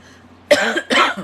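Two harsh, close coughs in quick succession after a brief quiet moment.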